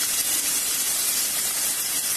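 Loud, steady sizzling hiss of chopped onions frying in hot oil, dense and constant throughout with no speech.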